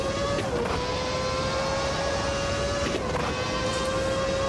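Race car engine in Automobilista 2 from the Brazilian Racing Legends pack, a loud, steady high-pitched drone held flat out, with two brief dips as gears change.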